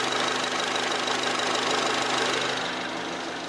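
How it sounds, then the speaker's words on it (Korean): Full-time 4WD imported SUV with a DOHC engine idling, a steady, smooth hum with a faint even ticking, heard up close with no voices. "엔진 소음 먼저 들려드리면은"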